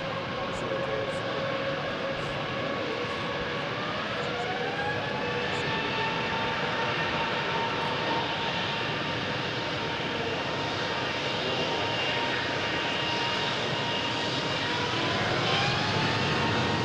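An Airbus A380 airliner with four Rolls-Royce Trent 900 engines flies a display at an air show, a loud continuous roaring jet rumble with slowly shifting whining tones, steady throughout.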